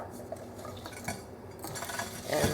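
A no-bake chocolate lasagna mixture is pressed into a 13 by 9 inch casserole dish, giving soft scraping and clinking of a utensil against the dish, close and quiet, with a louder scrape at the end.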